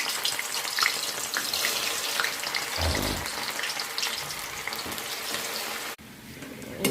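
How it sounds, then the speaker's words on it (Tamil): Gobi manchurian pieces deep-frying in hot oil give a loud, steady, dense sizzle that fills the whole stretch, with a short dip near the end before the bubbling resumes. "எண்ணெயில் பொரித்து எடுத்துகிட்டு வந்துடலாம்"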